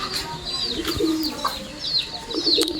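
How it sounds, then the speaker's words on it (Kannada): Male single-tail flying pigeon cooing in a few soft, throaty bursts amid light background chirps from other birds. "ನೋಡಿ ಸಿಂಗಲ್ ಟೇಲ್, ಇದು ಗಂಡು ಪಟ್ಟನೆ ಫ್ರೆಂಡ್ಸ್"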